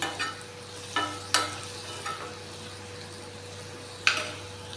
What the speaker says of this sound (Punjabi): ਨਾਲੇ ਆਪਾਂ ਐਡ ਕਰ ਦਾਂਗੇ ਜੀ ਧਨੀਆ ਪਾਊਡਰ ਸਾਰੇ ਮਸਾਲਿਆਂ ਨੂੰ ਚੰਗੀ ਤਰ੍ਹਾਂ ਮਿਕਸ ਕਰ ਦਿਓ